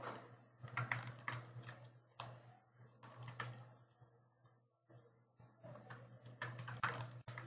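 Typing on a computer keyboard while laying out a flyer design, a steady run of soft clustered key clicks over a constant low electrical hum, with a short pause midway before the tapping resumes.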